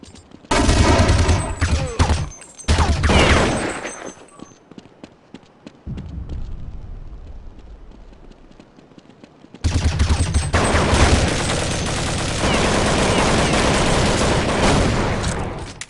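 Gunfire in the video game Counter-Strike 1.6 comes in rapid, loud bursts and then a sustained fusillade. Shots are separated by short lulls with footsteps and game effects.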